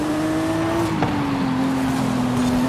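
Ferrari engine sound from a racing video game, holding a steady high engine tone through a drift that sags slightly midway, with a brief sharp transient near the middle and no talking.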